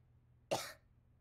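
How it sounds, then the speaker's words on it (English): A sick cartoon boy with the flu lets out a single short, rough cough, close and fairly loud, over an otherwise quiet background. "Caillou felt hot and was coughing, and he knew what that meant."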